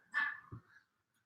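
A single short dog bark, faint and somewhat distant, followed by a brief low huff, then quiet.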